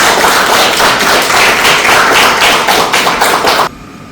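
Loud, dense applause from an event audience, steady and continuous for nearly four seconds, with scattered sharper claps standing out before it cuts off abruptly.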